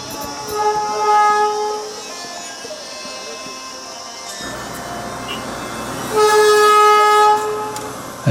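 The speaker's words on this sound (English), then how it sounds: "As the regular diesel service to Siliguri leaves Darjeeling station, it's a hive of activity, and the super loud horns blast incessantly." A diesel train pulls out of Darjeeling station on the regular service to Siliguri, sounding long, loud horn blasts over a busy platform with engine rumble and voices around it.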